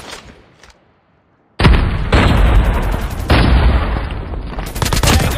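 In a video game, a sudden loud grenade blast erupts after near silence, followed by dense bursts of close gunfire and booming impacts that carry on to the end.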